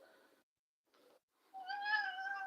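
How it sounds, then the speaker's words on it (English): Pepsico the cat gives a few soft, short vocal bursts, then a clear, close, drawn-out meow that rises and holds. "This is Pepsico the cat."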